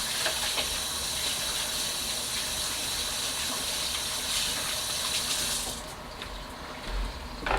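Steady running water from a tap washes over hands at a sink in a kitchen preparing salmon for drying, a continuous close gush that stops near the end.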